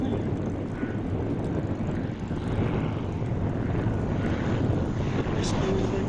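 Vintage De Havilland Heron four-engined piston airliner flying past at an airshow, a steady low engine drone and propeller rumble at moderate distance, continuous throughout with a commentator talking over it.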